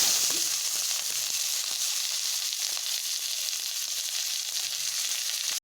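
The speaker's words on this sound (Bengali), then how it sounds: "পেঁয়াজটা ভাজা হবে ভালো" Sliced onions fry in hot oil in a wok seasoned with five-spice and green chilli, producing a loud, dense, unbroken sizzle with faint stirring underneath.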